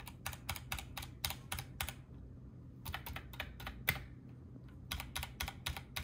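Keystrokes on an RK61 60% budget mechanical keyboard, typed in quick bursts of clacky presses separated by short pauses, close and clear with no talking.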